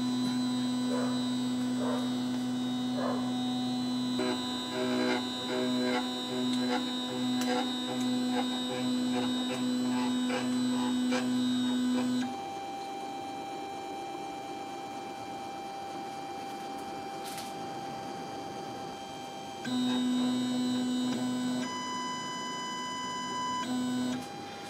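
Anet ET4 3D printer running its auto-leveling routine gives off steady electronic hum and whining motor tones in stepped bursts, pausing to a quieter hum midway before resuming, close and alone.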